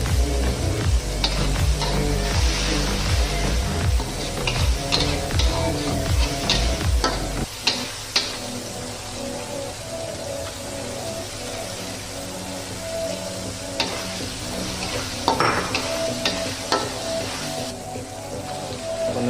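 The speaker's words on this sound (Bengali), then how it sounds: "মুরগির মাংসটা ভালো করে কষায় নেব।" Chicken pieces with onion, ginger, garlic and spices sizzle in a pan for a Bengali chicken curry, with close, busy scraping and clattering of stirring through the first half, then a steadier sizzle broken by occasional spoon knocks.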